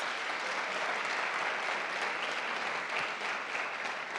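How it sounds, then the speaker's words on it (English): Dense, sustained applause from a convocation audience at John Jay College and Borough of Manhattan Community College, a steady wash of many hands clapping at even loudness with no talk over it. "Let's give Jeremiah a round of applause."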